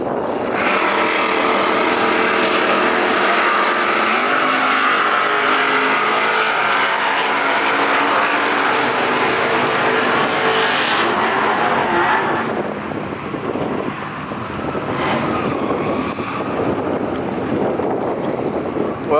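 Race cars launch hard at Sonoma Raceway, a loud sustained engine roar with heavy wind buffeting that holds steady for about twelve seconds, then drops to a rougher, fading rumble as the cars pull away.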